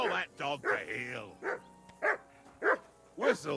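Sharp, close barking from a dog in Kingdom Come Deliverance 2, a quick burst followed by spaced single barks in an uneven rhythm, with someone talking over the barks.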